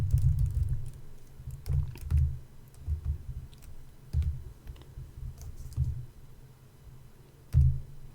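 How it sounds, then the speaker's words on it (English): Someone types on a computer keyboard, close and fairly soft, in irregular bursts of clattering keystrokes separated by short pauses. "My typing today."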